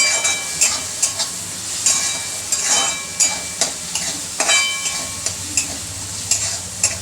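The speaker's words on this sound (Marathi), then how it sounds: "याला पण चांगलं परतून घ्यायचं आहे हिरव्या मिरचीला" Green chillies sautéing in a pan, a steady close sizzle with a spoon scraping and stirring in repeated strokes throughout, alone with no talk.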